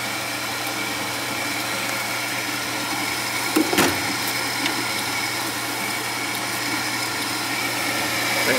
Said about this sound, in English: Boy, it doesn't sound like this fan's working so well